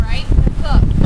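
Strong blizzard wind roars and buffets hard against the microphone, loud and close, with low rumbling gusts filling the whole short stretch.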